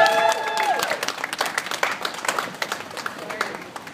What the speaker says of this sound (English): I'm used to a lot more applause than that.